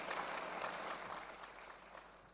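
Continuous audience applause fills a hall at the solemn opening of the 6th Conseguro insurance conference in Brazil, a dense, fairly faint, steady patter of many hands with no voices over it.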